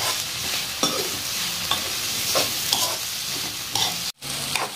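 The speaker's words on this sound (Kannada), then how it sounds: "ಹಾಕೊಂಡು ಅದನ್ನು ಕೂಡ ಈ ಥರ ಚಲೋತ್ನಾಗಿ ಹುರ್ಕೊಳ್ಳೋಣ್ರಿ" Masala and freshly cut raw coconut roasting in a pan on a gas flame, with a steady close sizzle and repeated scraping stirs, one brief silent gap near the end; no talking.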